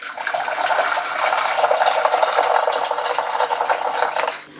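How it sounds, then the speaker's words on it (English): Boiled water from a kettle poured steadily over aquarium botanicals for a blackwater tank, a close, continuous splashing pour that fades out at the end. "So just add in some kettle water."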